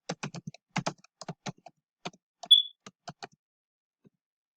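Bursts of keystrokes on a computer keyboard, close and crisp, typed in short uneven runs with brief pauses, plus one short high electronic beep partway through and a single faint tap at the end.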